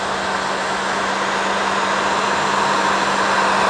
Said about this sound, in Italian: Vedete che man mano che il mio phon termico passa si gonfiano queste bolle